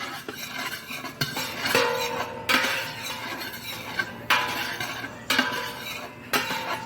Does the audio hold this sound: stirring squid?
yes